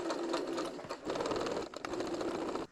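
Sewing machine stitching fabric along the edge of a quilted pumpkin, a close, continuous rapid whir with a brief slowdown partway through before it stops.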